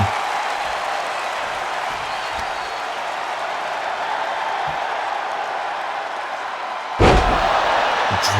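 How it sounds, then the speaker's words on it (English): A wrestler is driven down onto the ring canvas by a swinging DDT at a live wrestling show. The arena crowd roars steadily throughout, and a sharp, heavy slam lands near the end. "there's once again that swinging DDT"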